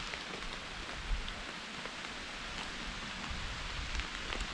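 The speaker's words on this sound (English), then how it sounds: "Here's more rain." Rain falls in the woods during a November deer hunt, a soft, steady hiss of drops on leaves and ground. It is faint and even throughout, with no talk.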